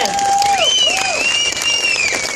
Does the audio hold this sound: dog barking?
no